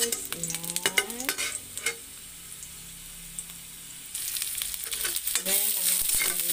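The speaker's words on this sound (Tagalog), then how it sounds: "Then, lagyan ang kawali ng ahos." Garlic hits hot cooking oil in a pan and sizzles steadily, with stirring scrapes and a brief run of water, while a voice talks intermittently over the frying.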